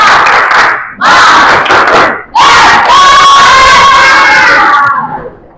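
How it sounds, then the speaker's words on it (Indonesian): A sixth-grade class of children shouts a spirit clap chant in unison, loud and close, in three bursts: two short calls separated by pauses, then a longer sustained shouted cheer that cuts off. "Coba tepuk semangat."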